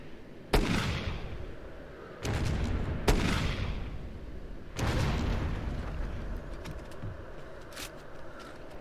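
A rocket launcher fires repeatedly in Far Cry Instincts, with four sharp, heavy blasts spaced a second or two apart, each leaving a booming, rumbling tail over constant background din.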